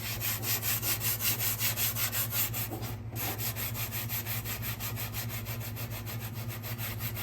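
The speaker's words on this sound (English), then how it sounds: "Basically just a very, very, very light sanding of sandpaper." Light sanding of a rusty Blackstone flat-top griddle with sandpaper on a drywall sanding tool, a steady back-and-forth rasping scrape repeating in quick even strokes, close and continuous, with one brief pause midway.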